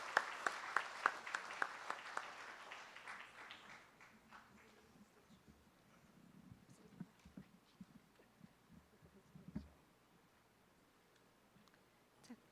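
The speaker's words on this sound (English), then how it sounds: "let me give you all a round of applause along with all of your parents and all the well-wishers here" An audience of parents and well-wishers at a primary school graduation applauds, the clapping strong at first and then thinning and fading into scattered claps and quiet room noise.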